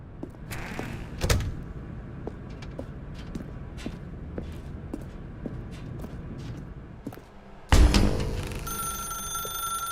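In the Stanley Parable video game, scattered clicks and knocks give way to a loud thud near the end, and then a telephone rings with a bright, steady electronic tone.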